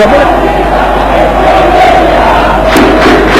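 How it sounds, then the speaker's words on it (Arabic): Al Ahly football supporters roar and chant in a packed stadium during a 2005 African match against Zamalek, a loud, continuous crowd wall with no break. "ادي جماهير الاهلي، بقول لكم جماهير في مصر تشجع"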